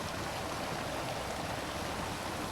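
Fast-flowing stream water rushing steadily, a dense continuous broadband wash that stays loud and close for the whole stretch, with no voices over it.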